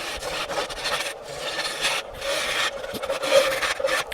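Wood being hollowed out by hand for a small fairy house, a steady rasping, rubbing scrape close by that runs in repeated strokes with short pauses, fairly loud and alone without talk.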